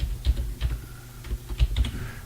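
Password being typed on a computer keyboard: a close series of about eight to ten crisp key clicks in an uneven rhythm, with no voices.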